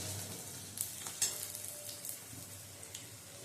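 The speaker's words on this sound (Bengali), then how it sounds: "আর একটাতে পেঁয়াজটা ভাজতে বসিয়েছি, বেরেস্তা করবো বলে" Onions frying in a pan for birista in a mutton biryani kitchen: a soft, continuous sizzle with a few brief crackles and pops, fairly faint and without talk.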